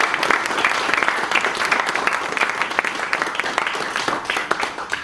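A room full of people gives a round of applause at an evening charity campaign event, many hands clapping in a thick, even patter that continues throughout without a break.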